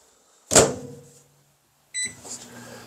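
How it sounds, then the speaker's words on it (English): A microwave oven warming a cup of coffee in a workshop: a loud thunk as the door shuts, then a beep, then the steady hum of the oven starting up, close by with no talking. "Heat it up in the microwave here."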